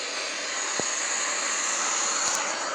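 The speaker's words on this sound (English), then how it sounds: "we are approaching for landing with the Airbus A330 200 aircraft over here" Airbus A330-200 on final landing approach in Microsoft Flight Simulator, a steady airy jet-engine hiss and roar holding constant with no voices.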